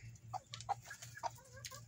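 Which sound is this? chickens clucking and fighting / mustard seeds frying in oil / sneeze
chickens clucking and fighting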